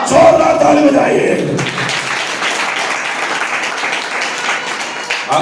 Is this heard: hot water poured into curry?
no